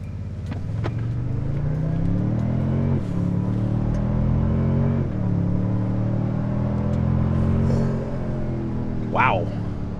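A Toyota Sequoia eight-seat SUV on 35-inch tires accelerates hard from a standstill on a closed road, its engine climbing in pitch and dropping briefly at each upshift, loud and continuous from inside the cabin, with a brief voice near the end.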